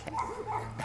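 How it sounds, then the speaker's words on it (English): A pug puppy gives short, soft whimpers and little yips, close by and faint, in a brief burst with no speech. "look at Andy's new dog"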